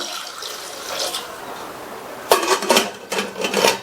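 Water splashes and pours in short close bursts into a metal pressure cooker holding potatoes, gurgling and sloshing.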